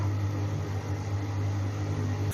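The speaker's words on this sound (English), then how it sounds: "The bowl-shaped rotating container continuously turns the ingredients and pushes them toward the blades for cutting." An MG-18 bowl cutting machine (bowl chopper) runs with a steady, even mechanical hum and whir, its rotating bowl feeding food to spinning blades, and the sound holds constant throughout with no speech.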